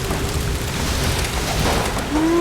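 A waterfall roars in the Tomb Raider video game, a dense, loud rushing wash of water that fills the whole stretch, with a brief tonal game sound rising near the end.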